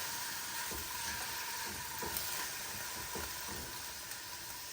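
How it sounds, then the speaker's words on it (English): Tofu sizzling in a little olive oil in a pan, a soft steady frying hiss with faint irregular pops and light stirring taps, fairly quiet and close with no talk. "And now I'm gonna cook the tofu first"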